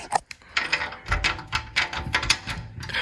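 A stiff key grinds and clicks as it is worked in a lock, producing a few short ratcheting mechanical bursts, close and moderately loud with no talking.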